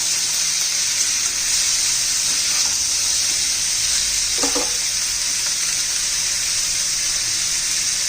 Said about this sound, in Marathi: चांगल्या दोन तीन मिनिटं चांगल्या परतून घ्यायच्यात आपल्या भाज्या